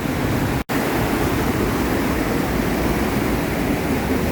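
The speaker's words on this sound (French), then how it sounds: "Et aujourd'hui c'est transformé en torrent furieux." A small stream swollen by days of heavy rain in the Hérault has become a raging torrent, giving off a loud, continuous broadband rush of water with no voices.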